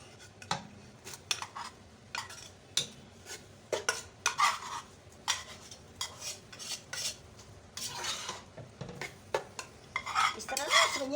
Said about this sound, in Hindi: अब मैं आंच को दरमियाना करके सेवइयों को इसमें डाल दूँगी।